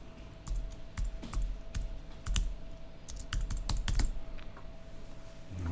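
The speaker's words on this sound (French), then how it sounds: "Et je vais taper n'importe quoi." Rapid, uneven bursts of keystrokes on a computer keyboard, close and crisp, with short pauses between clusters and no one speaking.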